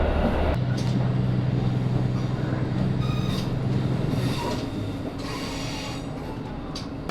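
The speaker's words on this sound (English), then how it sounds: "We're just pulling into Nagoya now, 7 minutes out" A Shinkansen train rumbles steadily along with a low mechanical drone and faint rattling, the noise gradually easing as it slows into Nagoya station.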